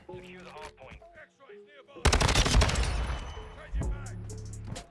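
HCR 56 gun fire in Modern Warfare 2, a loud sustained burst of rapid close shots erupting midway and continuing with echo, preceded by quieter game sounds.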